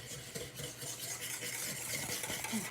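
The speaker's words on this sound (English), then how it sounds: "a lot of shaking going on here, and you know, with the whisking, you gotta take your time" Whisking eggs in a bowl for eggs Benedict, a continuous soft, fast scraping and swishing that stays steady throughout at low volume.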